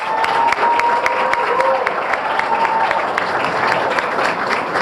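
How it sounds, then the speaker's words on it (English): An audience at a Dominican Day Parade scholarship awards event applauds, sustained loud clapping with some cheering mixed in. "he deserves a round of applause"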